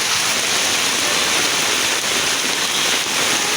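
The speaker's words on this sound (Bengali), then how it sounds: "খুব সুন্দর বৃষ্টি হচ্ছে আমাদের এদিকে" Heavy rain pours down in a steady, dense hiss, loud and continuous throughout with no letup and no voices.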